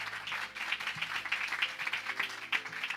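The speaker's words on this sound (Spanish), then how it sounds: "Damos un aplauso fuerte al Señor por eso" Church congregation clapping in a service, moderately loud with uneven, scattered claps and a few sharper individual ones standing out, plus a low murmur beneath the clapping.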